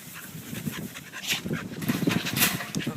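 A dog on a ranch pants rapidly and rhythmically close by, with quick breathy huffs and a faint whimper mixed in.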